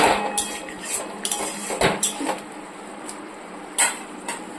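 Spice masala with salt and sugar is stirred in a pan, with scattered scraping and clinking knocks of a spoon against metal over a low background hiss.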